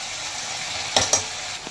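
Green chilli paste being mixed into chicken pieces in a pan, a brief sizzle with two quick spoon scrapes against the pan, close by.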